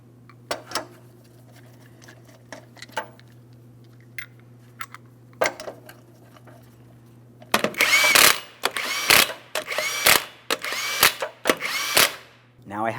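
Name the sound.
power tool running down wheel lug nuts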